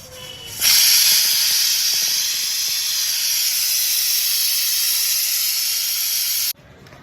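Steam hisses loudly and steadily from a pressure cooker's whistle valve as mutton cooks, a continuous, near, bright rush of vented pressure lasting several seconds before cutting off abruptly.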